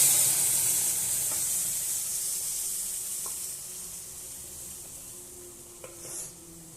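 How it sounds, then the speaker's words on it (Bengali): Hot oil hisses steadily around dal after garlic has been fried red, the sizzle easing slightly over time, with a couple of faint clinks near the end. "তো লাল করে ভেজে নিয়েছি, এবার আমি ডালটা দিয়ে দেবো।"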